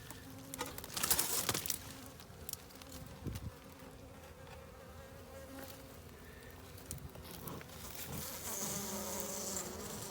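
Honey bees buzzing in a small nuc hive during cool January weather, a steady moderate hum with a few louder close passes near the start, heard alone without talk.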